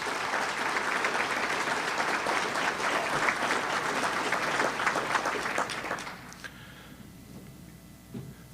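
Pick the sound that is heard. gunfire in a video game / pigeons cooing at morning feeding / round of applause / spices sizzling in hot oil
round of applause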